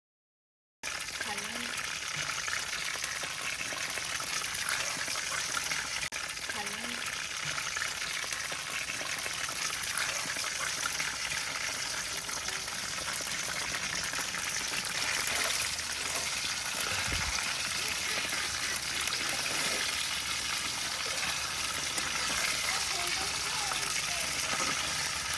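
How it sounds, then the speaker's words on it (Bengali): Quail frying in a wok filled with oil gives a steady, dense sizzle that continues without a break, with a faint thump partway through. "তো আমি আস্তে আস্তে করে এই কোয়েল পাখিগুলো সব ফ্রাই করে নিলাম।"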